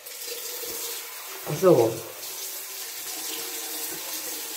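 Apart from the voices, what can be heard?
water running from a bathroom tap to wet face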